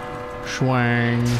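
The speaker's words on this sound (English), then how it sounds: "the bell is wreaking havoc" A single bell strike in Resident Evil 2 rings out loud and near, with a bright harmonic tone that sustains evenly for almost a second before cutting off. Faint background ambience sits underneath.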